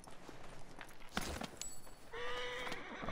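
Horse sounds from the video game Assassin's Creed Origins: brief hoof clatter and a sharp impact, then a tonal whinny-like call near the end, fairly quiet against a soft game ambience.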